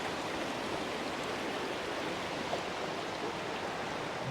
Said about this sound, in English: you can see the waterfall up that way, Robin.